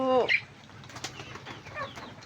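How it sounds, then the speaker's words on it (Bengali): Pigeons beat their wings in a busy flurry while being fed in the morning alongside chickens, with a sharp bird call at the start followed by repeated flapping bursts close by and some faint background noise. "কবুতরগুলো একটু বেশি বেশি জ্বালাইতে আছে"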